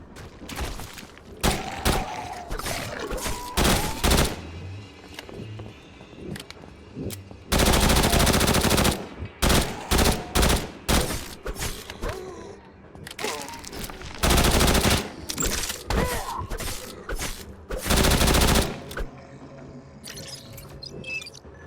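Rapid bursts of video game gunfire from an AI companion ring out repeatedly, loud and close, with sustained volleys separated by shorter shots and quieter stretches of background game noise.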